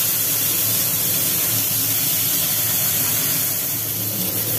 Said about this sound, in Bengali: চিংড়ি মাছটা দিয়ে দিলাম, ভেজে নিই আগে